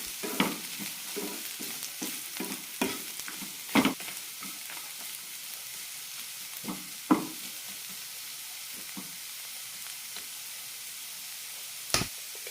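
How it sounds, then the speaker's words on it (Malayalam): Chopped onion and bottle gourd sautéed in a pan for chutney, with a soft steady sizzle under repeated scraping and stirring strokes of a spoon, a few sharper knocks against the pan standing out. "1 മിനിറ്റ് നന്നായി വഴറ്റിയെടുക്കാം."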